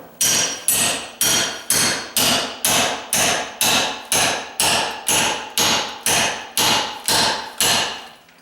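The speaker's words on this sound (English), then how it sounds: "Just tap, tap, tap with this hammer right here." A hammer strikes kitchen countertop tile in a steady rhythm, about fifteen sharp ringing taps spaced evenly, close and loud.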